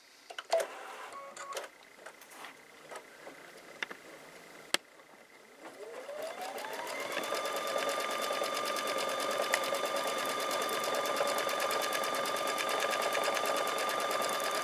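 A Baby Lock embroidery sewing machine fitted with a magnetic frame starts up after a few clicks and settles into a steady, loud, rapid stitching rhythm that runs close and continuous to the end.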